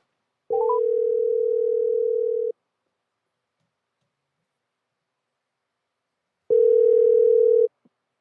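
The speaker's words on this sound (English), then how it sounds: "Let's get Dirty Broke on the phone, man" A telephone line rings out twice with a steady electronic ringback tone, the first tone about two seconds long and the second just over a second, separated by silence, loud and clear.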